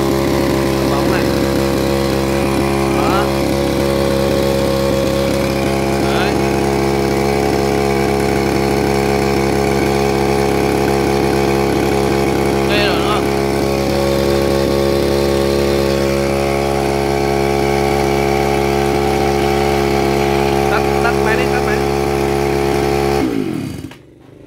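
A small pull-started engine runs loud and close, driving a converted fan-motor generator with a steady droning hum and whine for over twenty seconds before abruptly cutting off.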